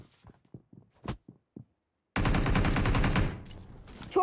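Gunfire in the mobile battle royale game PUBG Mobile: a few scattered single shots and thumps, then a loud, sustained burst of rapid automatic fire lasting about two seconds, close and dense, ending with a final sharp shot.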